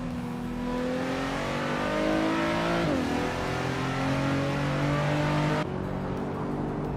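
Racing cars roar together in a video game race, a dense steady engine drone with rising and shifting revving pitches, loud and continuous from start to finish with no voices.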